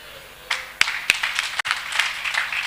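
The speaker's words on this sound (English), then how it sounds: "A round of applause for the chairman" Clapping for a chairman at a socio-economic summit in Ikwuano, starting with a few sharp, separate claps that build into a light, steady ripple of audience applause with no talking.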